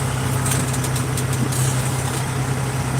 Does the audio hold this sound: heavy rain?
no